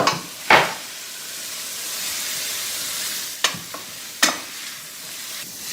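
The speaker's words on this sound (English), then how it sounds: "I'm mixing in the carrots and the beef." Shredded carrots and beef frying in a pan under a steady soft sizzle, with a few sharp clacks and scrapes from a utensil stirring, close by and without talk.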